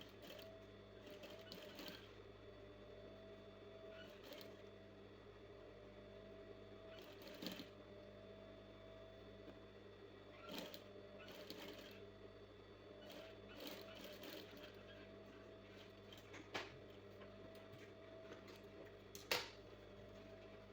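A sewing machine top-stitches the neckline of a baby frock in short runs of rapid mechanical whirring, stopping and starting repeatedly over a low room hum, with a few sharp clicks.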